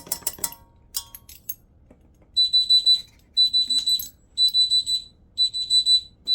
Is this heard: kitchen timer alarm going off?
yes